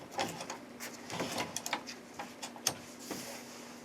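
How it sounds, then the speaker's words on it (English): An embroidery hoop is fitted into an embroidery machine with a series of light plastic clicks, taps and sliding scrapes, irregular and close, over a faint steady hum. "I'm going to go ahead and put this hoop into the machine."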